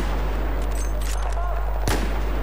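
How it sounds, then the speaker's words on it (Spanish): Steady, loud gunfire and explosive blasts from the video game Battlefield 4 on the Dragon's Teeth map, Pearl Market, with one sharp, heavy shot standing out near the end over constant battle noise. "le estoy disparando a uno de mi mismo equipo"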